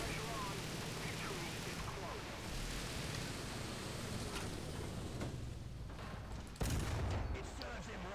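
An M4A1 (76)W tank fires in War Thunder: a loud cannon shot lands late in the sequence over a constant roar of battle noise and engine rumble.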